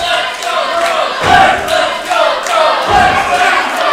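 A wrestling crowd in Wheeling cheers and roars, loud and dense, swelling in rhythmic waves that sound like chanting.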